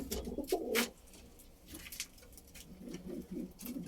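Soft pigeon cooing at low volume, a few murmuring coos with brief chirpy bird sounds, fairly quiet with light background noise.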